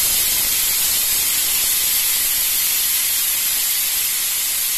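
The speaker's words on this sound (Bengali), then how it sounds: "কিছুক্ষণ রেখে আমি এবার স্টিমটা বার করে দিচ্ছি।" Steam venting from a pressure cooker used to cook vegetable-loaded Maggi noodles, after the gas is turned off: a loud, continuous, even hiss that holds steady for the whole stretch with no voices.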